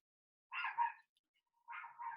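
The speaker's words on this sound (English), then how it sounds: "there's a lot of dogs outside my window right now" Two barks from dogs outside a window, each a doubled, clear yap, moderately close, separated by a pause of about a second, with no voices.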